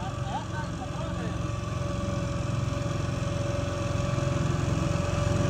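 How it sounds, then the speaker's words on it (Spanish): A motorboat engine drones steadily on a lake outing in rural El Salvador, a continuous low idling hum that builds slightly in loudness, with voices faintly mixed in. "Manejando la lancha por primera vez."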